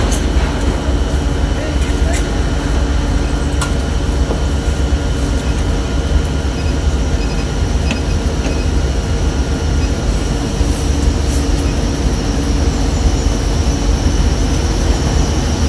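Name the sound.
train arriving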